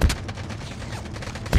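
Gunfire in the Call of Duty Mobile video game comes as a rapid burst of shots with strong single blasts at the start and end, loud and close, with no voices.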